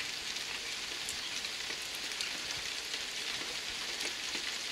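Steady rain patters and drips onto a car filled with water, a soft, even hiss of fine drops continuing without pause, fairly quiet and with no voices.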